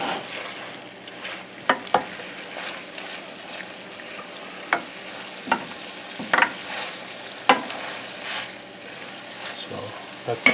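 Onions and peppers fry in a hot pan with a steady close sizzle, broken by scattered sharp pops and the occasional stir, while quiet talk runs underneath.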